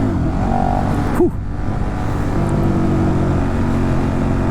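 A 2015 KTM Superduke Gen 1 motorcycle engine under load on back roads, a continuous loud, close drone with a brief rising rev and gear shift partway through.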